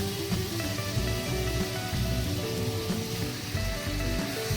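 Fish heads rubbed with turmeric and salt sizzle steadily in hot oil in a home kitchen, a dense, continuous frying crackle that stays loud and even throughout with no talking.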